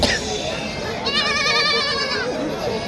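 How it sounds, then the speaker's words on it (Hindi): A Kota breed goat bleats once in a long wavering cry, close by, amid the murmur of people talking in a busy outdoor goat market in Bareilly, India. "ये कोटा का बकरा आ गया"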